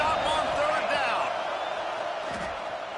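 A stadium crowd roars steadily in a college football video game, a broad, loud wash of cheering that holds throughout and fades slightly toward the end.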